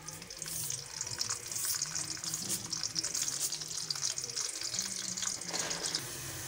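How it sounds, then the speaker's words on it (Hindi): Onions frying over a medium flame in a pan for chatpati chana dal, giving a steady, continuous hissing sizzle with watery crackle that stays fairly loud and even throughout, with no talking over it. "मीडियम फ्लेम पे हम इसे फ्राई करेंगे।"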